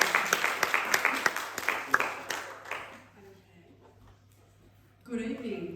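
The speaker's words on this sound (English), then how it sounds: "let's give her a round of applause" Applause from an audience at an evening talk, scattered claps from a modest crowd that thin out and fade within about three seconds. A brief quiet follows, then a voice begins speaking.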